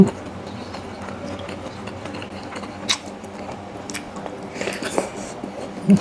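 Close crunchy bites and chewing of crispy squid with tom yum noodles, a steady low mastication texture with a few sharp crunches, no talking.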